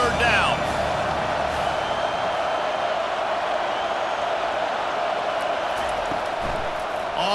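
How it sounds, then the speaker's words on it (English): Stadium crowd roar builds and holds steady through a third-down defensive stand in EA Sports College Football 25, a dense continuous wash of cheering with a commentator talking over it. "Decibels rising as the crowd gets behind this defense on third down."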